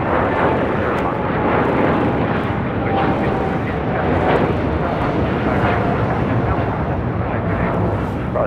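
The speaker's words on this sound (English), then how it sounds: "This is United Airlines Flight 39 taking off to Tokyo Haneda" A United Airlines Boeing 787-10 Dreamliner takes off from LAX with a loud, sustained jet engine roar that stays steady throughout, heard from a distance with faint radio chatter beneath.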